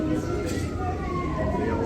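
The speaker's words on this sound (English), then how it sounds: "Hear the emergency vehicles out there." Emergency vehicle sirens, including an ambulance, sound outside on a street in Los Angeles, a steady wailing tone running through the whole stretch over constant city background noise.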